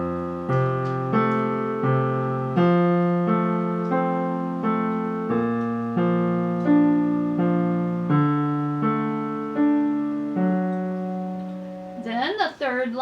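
The left-hand part of the second line of a piece is played on piano as a slow run of arpeggiated low notes with sustained ringing tones. A brief voice enters at the very end.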